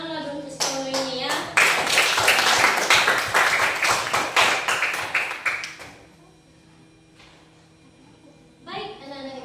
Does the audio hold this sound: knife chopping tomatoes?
no